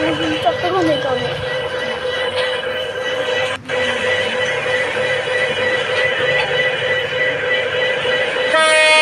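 Train Simulator Bangladesh game audio of a passenger train running on a route toward Chittagong: a steady, loud rolling rumble with sustained horn tones, a brief dropout midway and a sharper burst at the end.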